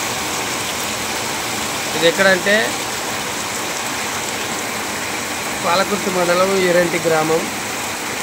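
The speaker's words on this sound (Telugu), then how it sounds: "చూడండి ఇక్కడ వర్షం." Steady overnight rain falls without pause in Eeranti village, Palakurthi mandal, Jangaon district, making a constant even hiss throughout while someone speaks over it in two short stretches.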